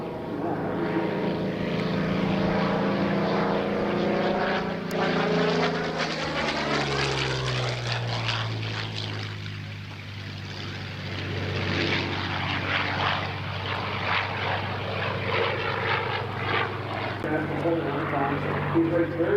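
A P-40N Warhawk propeller fighter roars past at the 2024 National Warplane Museum Airshow, its engine note sweeping down in pitch as it flies by, then droning on while a commentator talks over the crowd.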